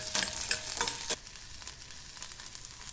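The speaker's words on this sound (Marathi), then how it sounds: "कढईत एक मोठा चमचा तेल गरम करूया एक मोठ्या आकाराचा कांदा सोनेरी तांबूस रंगावर भाजून घेऊया" A large onion frying in hot oil in a wok, with close spatula scrapes and stirring at the start over a soft steady sizzle that carries on alone, with no talking.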